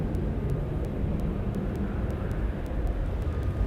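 A Southwest airliner departs Dallas Love Field, its jet engines roaring as a loud, steady broadband rumble heard from the airport with no talking.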